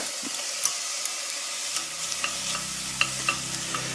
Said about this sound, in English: So what we're doing with the onions now is we're doing a process which is called sweating.